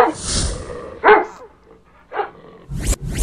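A dog in a video game barks and yips in short bursts, with brief pauses between them and a whimpering note, sounding close and somewhat synthetic.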